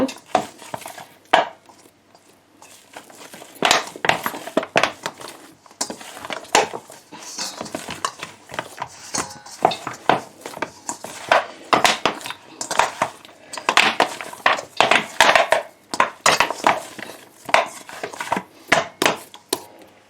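Curry roti dough is worked by hand in a bowl, producing irregular clattering thumps, slaps and scrapes against the bowl, some bursts quick and clustered, others spaced out, fairly close and loud over twenty seconds.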